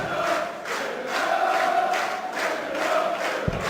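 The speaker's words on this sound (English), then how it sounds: "the crowd are loving this as well on this Easter Saturday afternoon in Germany" A large darts crowd at the German Darts Masters in Germany roars and chants in rolling, sustained waves of cheering, filling the arena at a steady loud level throughout.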